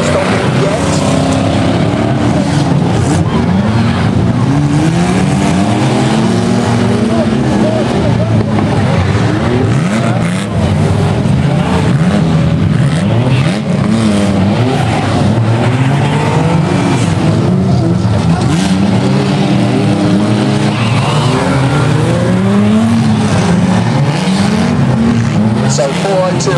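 Banger cars race and crash at an Arena Essex demolition derby, a continuous loud roar of engines with revving and bumps. Commentary over a public address system runs on top of the noise throughout.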